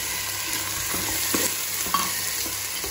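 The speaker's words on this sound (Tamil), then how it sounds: "நான் வெங்காயம் வதக்கிட்டிருக்கேன்" Onions and tomato sautéed in a pan for prawn biryani, a continuous oily sizzle with intermittent scraping stirs and light clinks of the spoon, close and steady, no talking.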